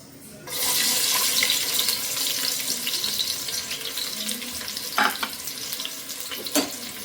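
Sliced onions drop into hot oil for fish sambar and set off a loud, steady hiss and sizzle that holds throughout, with a couple of brief stirring clatters near the end.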